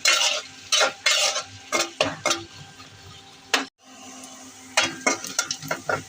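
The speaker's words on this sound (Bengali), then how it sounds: "এখন ভাজবো।" Onion and garlic fry in hot oil with a steady sizzle, while a spoon scrapes and clinks against the pan in irregular strokes. The stirring comes through loud and close, with a brief pause near the middle.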